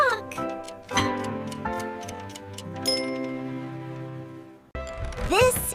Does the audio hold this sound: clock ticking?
yes